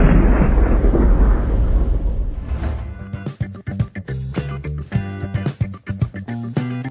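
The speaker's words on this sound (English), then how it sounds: "A rolling crack of afternoon thunder frightens a man walking onto his porch" Afternoon thunder booms loudly, a heavy rolling rumble that fades after a few seconds into crackling, rattling impacts close by.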